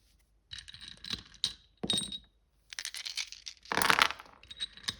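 Small hard dice clatter and rattle across a surface in a few bursts, with quick clicks and tumbling in between, close by.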